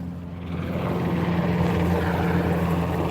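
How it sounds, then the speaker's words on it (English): A helicopter passes overhead at Solo Point around sunset, a steady, loud rotor and engine drone that holds strong and unbroken throughout, with no talking. "Did they send a helicopter? Is that a black helicopter?"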